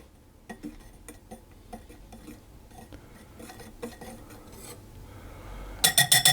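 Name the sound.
stirring mixed spice, cinnamon and salt into flour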